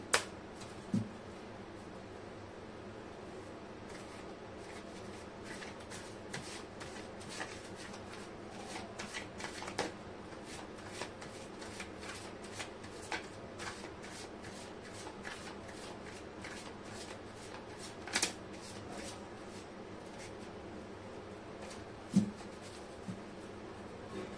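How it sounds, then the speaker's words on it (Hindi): Tarot cards are shuffled steadily for over twenty seconds, a close, continuous soft riffling with rapid flicks and occasional louder taps, under a faint background hum and without talking. "मैं कर लेती हूँ कार्ड की शफलिंग।"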